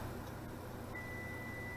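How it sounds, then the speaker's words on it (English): A faint, steady electronic beep tone starts partway through and holds to the end, over a low background hum. "my oven just beeped to tell me I'm ready"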